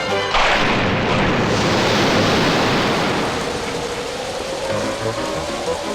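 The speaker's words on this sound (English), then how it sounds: "That was the worst storm yet." Heavy rain pours in a dense, loud, steady hiss after a sudden burst, gradually easing slightly as the downpour continues without any voices.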